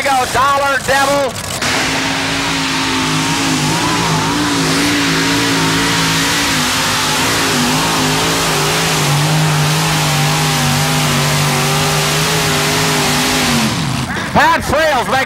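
An alcohol-burning pulling tractor with three Chevy 454 engines roars down a 1987 pull track, a loud, sustained multi-engine drone holding steady for about twelve seconds between bursts of throttle at the start and end, with an announcer talking over it.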